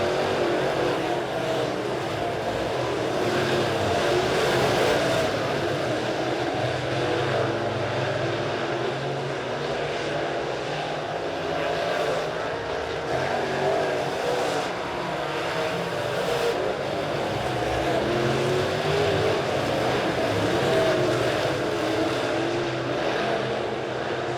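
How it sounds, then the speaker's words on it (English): Late model race cars in a heat race at Springfield Raceway roar as a steady, loud blended engine drone that rises and falls slightly as the pack circles, with no one speaking. "He's got that late model dialed in right now, leading heat race number 1."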